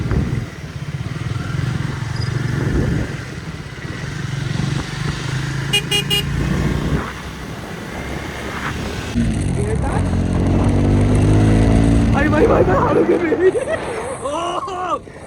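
A car driving along with a steady engine rumble, a brief horn-like tone partway through, and people talking loudly over it.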